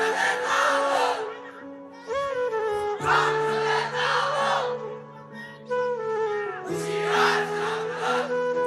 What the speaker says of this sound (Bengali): তাকবীর দাও একটা।